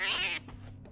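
Cat in the Junji Ito video game Maniacs, a single close, high drawn-out meow that drops off sharply, followed by a faint trailing tail of sound over low background hum.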